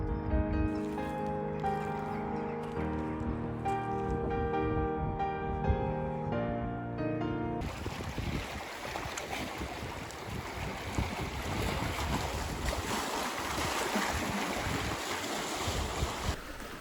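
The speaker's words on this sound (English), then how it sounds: "This is a really nice little harbour, isn't it?" Ambience of a small harbour on Scotland's NC500 east coast: steady wind and lapping water wash in after a stretch of soft music, continuing evenly to the end with no talk.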